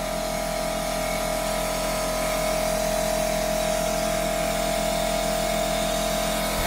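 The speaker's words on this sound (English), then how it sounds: "I'm going to just cut off the air compressor, so stand by for that." An air compressor runs continuously, a loud, constant mechanical whine and drone with a steady hum underneath, unchanging for the full length with no talk.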